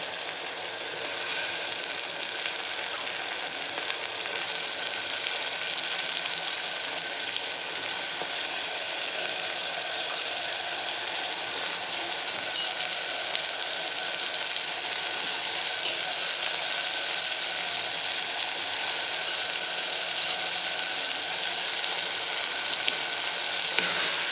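Potatoes fry in a pan for a beans and peas curry, giving an even, unbroken sizzling hiss that stays close and constant for the whole stretch, with no talking.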